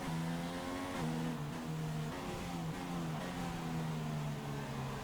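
A Formula 1 race car engine in the game F1 2016 at the European Grand Prix drones steadily at a low, even level, its pitch rising and dropping slightly through gear changes as it cruises behind another car.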